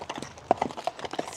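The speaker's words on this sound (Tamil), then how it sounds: "இன்னொரு குதிரையும் வருது கருப்பு." Horse hooves clip-clop at a steady trotting rhythm near Lake Louise, Banff, Alberta, several distinct knocks close by and moderately loud, with no other sounds standing out.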